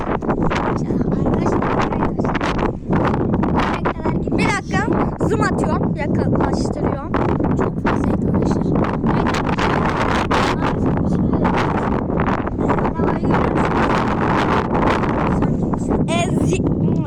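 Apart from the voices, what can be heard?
strong wind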